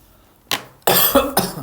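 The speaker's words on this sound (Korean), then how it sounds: "아이고야 기침 나와라." Someone coughs close by after a brief quiet, first a short single cough, then a harsher burst of two or three coughs in quick succession.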